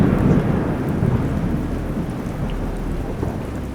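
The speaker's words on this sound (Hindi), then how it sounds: "तभी बादल फिर से गरज उठा।" Thunder rumbles low and steady through a storm, a deep continuous roll layered with dense rainfall, loud and enveloping with no voices.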